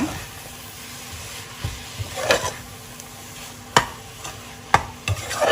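Prawn biryani ingredients sizzle in a hot pan while a utensil stirs and scrapes, with sharp clanks against the metal at irregular intervals and no talking.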